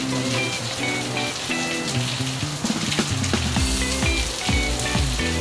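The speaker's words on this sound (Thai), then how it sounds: "ฝนตกเยอะมากเลย" Heavy overnight rain in Chiang Rai, Thailand, falling steadily and loudly on surfaces close by, a dense continuous patter with scattered drips and no voices.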